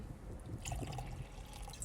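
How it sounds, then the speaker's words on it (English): Water pours from a container into a drink, a soft close trickle and splash lasting under two seconds at low volume, with no voices. "Add some water to it."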